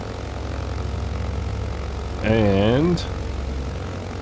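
Propeller aircraft engine at takeoff power in a flight simulator game, island hopping around Anguilla, St. Martin and St. Barts: a steady, loud, droning hum throughout, with someone briefly speaking over it.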